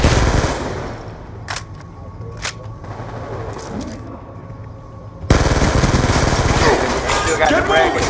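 Call of Duty Black Ops 2 gunfire: a few sharp isolated shots under muffled chatter and game noise, then a sudden dense, loud burst of rapid automatic fire filling the last few seconds.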